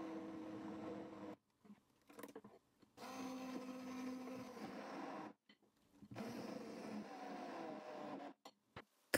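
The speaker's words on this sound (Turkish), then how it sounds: "bu karışımı blenderla çekelim" A kitchen blender whirs through zucchini and potato batter with baking powder and oil, running in three loud bursts with short pauses between them.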